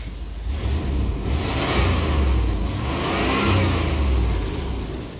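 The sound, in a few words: 1993 GMC Yukon engine revving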